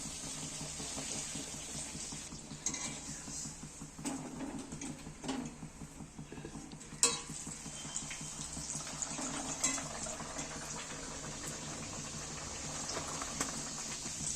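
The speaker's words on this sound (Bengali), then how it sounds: "এইভাবে আমি সবগুলোকে ভেজে নেব" Kochuri, green pea stuffed bread, deep frying in a pan of hot oil: a steady close bubbling hiss with occasional utensil clinks and scrapes, no talking.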